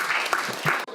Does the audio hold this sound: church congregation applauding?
yes